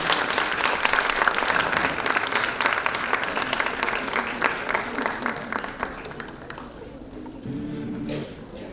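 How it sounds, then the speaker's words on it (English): A conference audience on sustainability in the textile and apparel industry applauds to welcome a minister, with loud, dense clapping that fades away, followed by a voice speaking briefly. "Please join me in welcoming her with a huge round of applause."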